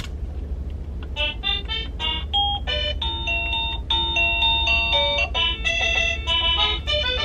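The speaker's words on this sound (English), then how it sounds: "I need to turn my doorbell up." A home doorbell chiming a bright electronic melody of repeated tones, steady and fairly loud over a low constant hum, with no voices.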